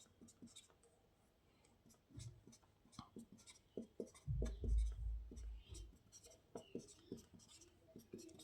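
Marker or chalk drawing a chemical structure on a board during a haloalkane elimination lesson, with scattered soft squeaks and taps and a louder scraping stroke near the middle, faint and close.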